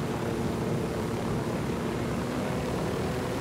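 Steady, dense rotor and engine roar of a helicopter flying in the video game Ghost Recon Wildlands, continuous and loud with no variation or voices.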